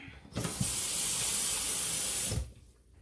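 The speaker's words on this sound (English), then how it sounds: "So let's just add the water to the fill line" Water from a tap rushes into a KD ramen noodle cup for about two seconds, a bright, steady hissing pour that starts and stops abruptly, close and fairly loud.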